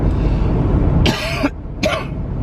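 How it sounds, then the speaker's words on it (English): Two harsh coughs in quick succession, the first longer and raspier, over a low background hum. "my cough is just horrendous."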